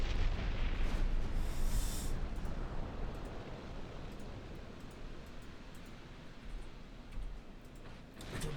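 Naval gunfire in the warship game Ultimate Admiral Dreadnoughts: a continuous, heavy rumbling barrage of distant booms that blend into a steady roar, loudest at the start and easing slightly, with no talking.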